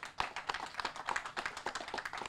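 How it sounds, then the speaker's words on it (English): A small crowd at an outdoor tennis court ribbon-cutting ceremony in Kennedy Heights claps for a volunteer. Individual claps stay distinct and uneven, in a loose, irregular patter of close, sharp hand strikes. "Give him a round of applause."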